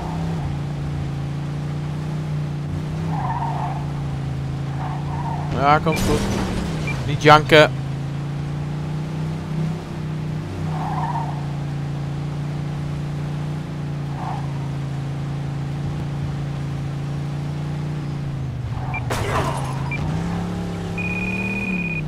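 A car in Mafia 2 driving at steady speed with a constant engine drone, broken by a few brief skid or impact bursts, while people chat in Dutch over it.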